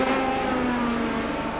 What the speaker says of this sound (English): one of those engines seems to me to be sounding a tiny bit lumpy